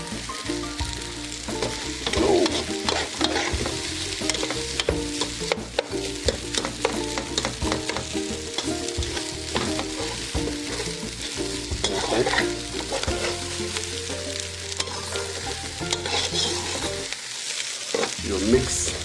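Rice sizzles and fries steadily in a pot while a metal spoon scrapes and stirs through it, a continuous close crackle with irregular scraping strokes and no voices.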